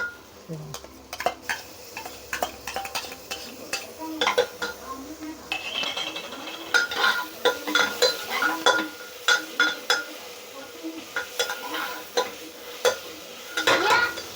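Ginger and garlic sizzle in hot oil in a pan while a spoon stirs and scrapes in uneven bursts, with clinks of metal utensils and faint talk in the background.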